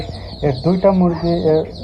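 Chickens in a backyard flock where several birds have recently died cluck in a run of short, close, harmonic calls, fairly loud, several in quick succession.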